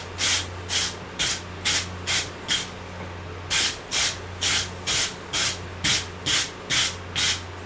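A wire brush scrubs a piece of wrought iron for a sledge hammer before forge welding, roughly twenty quick, rhythmic rasping strokes in two bursts, close and crisp over a low steady hum.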